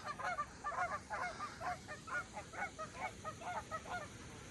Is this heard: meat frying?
no